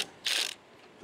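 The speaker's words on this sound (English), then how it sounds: "Now we're gonna loosen up this nut right here." A ratchet on an 11 millimeter nut under a 2018 Chevy Silverado gives one short, close burst of rapid clicking, followed by a faint click afterward.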